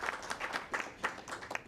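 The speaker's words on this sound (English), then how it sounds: "A round of applause for Alana." Audience applause at a conference on economic, social and cultural rights, a brief burst of clapping from the crowd that rises and falls unevenly and stays at a moderate level.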